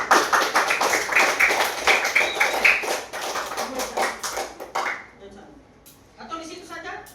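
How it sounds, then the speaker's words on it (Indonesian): A classroom group of children and a teacher clap together in a dense, steady burst of applause that fades after several seconds, followed by quieter scattered sounds and voices. "berikan aplaus dulu"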